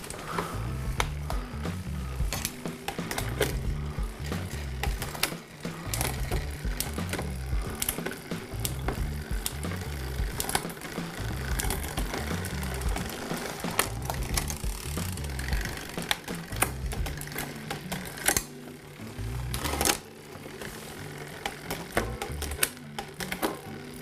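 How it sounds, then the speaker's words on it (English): Bicycle rear derailleur and shifter clicking through the sprockets as the cranks turn, a busy rapid ratcheting freewheel buzz with repeated clicks and chain rattle, close and steady throughout. "move the shifter, just to make sure that it's moving one click and it moves one sprocket"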